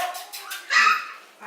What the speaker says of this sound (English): If I don't have a hand on them, they're barking at me.